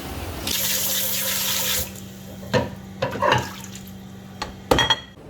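A tap in a bakery's dishwashing room runs into a sink, first a steady gush for about a second and a half, then short splashes and clatters as the flow stops and starts.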